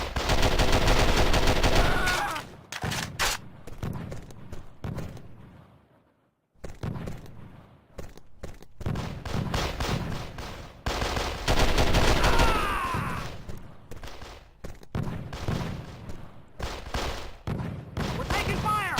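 Heavy video game gunfire rattles in dense bursts, cuts out briefly to near silence, then resumes in loud overlapping volleys and machine-gun rattles.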